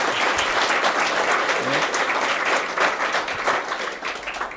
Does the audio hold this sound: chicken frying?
no